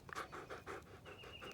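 A dog pants in quick rhythmic bursts, about six breaths close to the mic, fairly steady and alone with no talk.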